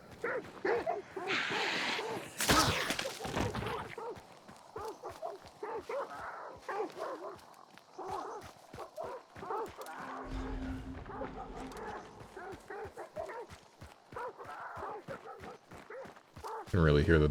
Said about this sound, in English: You can really hear the dogs from a long distance.